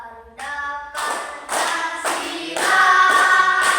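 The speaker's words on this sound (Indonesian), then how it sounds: "Tepuk tangan ya." Classroom applause at an elementary school as a pupil is called up to lead a patriotic song, with children clapping in bursts that swell and grow louder over nearly four seconds.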